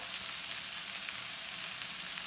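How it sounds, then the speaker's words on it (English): Brussels sprouts sautéing in a pan with apples, cranberries and sliced almonds, a steady close sizzle with light stirring scrapes throughout and no talking. "I'm going to just saute these together"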